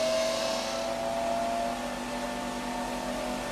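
An electric motor on a RegenX regenerative acceleration test rig winds up steadily, a continuous whine with tonal hum held at even loudness throughout, with no talking.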